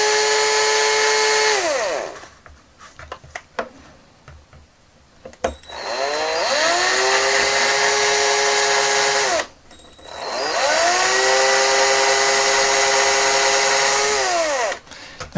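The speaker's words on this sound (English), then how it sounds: "So I'm going to carefully drill in" A power drill whines up to speed and runs steadily in three separate bursts, boring small holes in a plastic toy rifle, with quieter handling noises and clicks in the pauses between.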